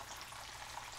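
Chicken pieces frying in hot oil, a continuous faint crackling sizzle with no voices.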